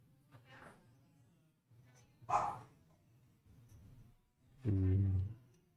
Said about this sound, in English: At least she's barking at other people and not just me.